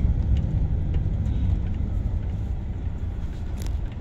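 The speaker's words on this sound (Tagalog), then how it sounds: "Guys, heavy traffic here. Entering San Juanico Bridge." Heavy traffic crossing the San Juanico Bridge toward Tacloban, Leyte, heard as a low continuous rumble of nearby engines and tyres, loud and steady with no voices.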